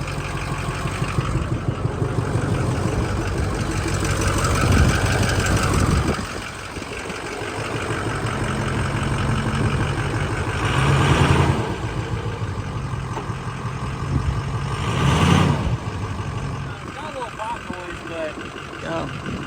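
A budget diesel mud truck engine idles and revs in low rumbling bursts, loud and close, with a few swells in throttle. Someone talks over the engine noise throughout.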